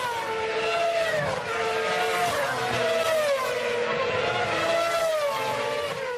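Formula 1 cars from the 2006 season run in a continuous, loud engine whine that rises and falls in pitch as they pass, a steady high-revving drone filling the whole stretch with no voices.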